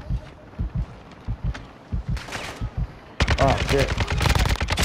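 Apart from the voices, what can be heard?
gunfire in a video game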